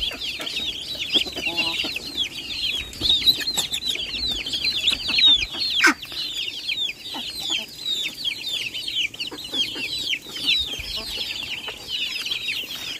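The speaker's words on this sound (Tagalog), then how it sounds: "Tinutuka sila ng tandang." Chickens and a rooster cluck and chatter continuously in a busy, close flock, with overlapping high-pitched calls and small squawks throughout and no one speaking.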